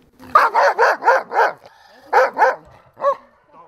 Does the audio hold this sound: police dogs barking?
yes